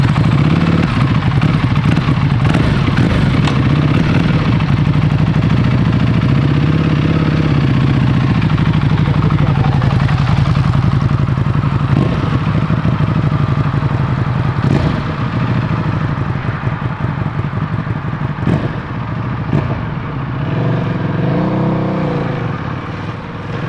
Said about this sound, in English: Let him see how that, American V-twin, 185 horsepower motor feels like.